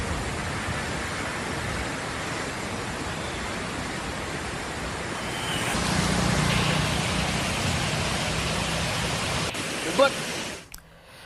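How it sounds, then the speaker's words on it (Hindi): The Shivghat waterfall on the Ahwa-Saputara road during heavy rain, a dense broadband rushing roar of falling water that swells louder midway, with a brief knock near the end. "आहवा सापुतारा रोड पर शिवघाट झरने का अनोखा दृश्य देखने को मिला।"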